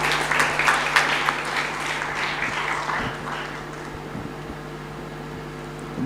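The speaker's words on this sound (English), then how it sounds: "Let's give them a round of applause" An audience at a conference applauds, a dense patter of clapping that is strongest at the start and tapers off to a low room hum within a few seconds.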